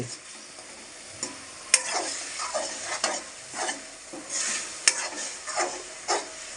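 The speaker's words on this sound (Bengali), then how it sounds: "আলু ভাজবে, দেখো জল দিচ্ছি" Potatoes fry in a pan with water just added while eggs are cooked alongside for breakfast egg paratha: a quiet, steady sizzle broken by repeated scraping stirs and light clinks of a utensil against the pan.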